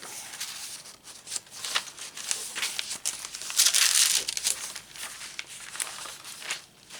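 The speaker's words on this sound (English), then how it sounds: "I just like how that deli paper sounds" Deli paper crinkles and rustles in bursts of handling while a sewing journal is assembled, steady close crackling with a louder flurry near the middle and no talk.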